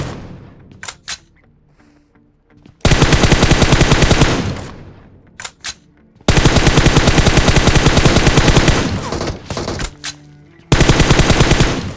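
Automatic weapon fire in the battle royale game PUBG Mobile: loud sustained bursts of rapid shots, each lasting a few seconds, separated by short gaps with scattered single shots and quieter game sounds.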